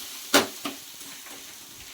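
Grated raw mango fries in a pan for mango pulihora, a soft steady sizzle with a sharp clack of a stirring spoon early on and a lighter tap just after.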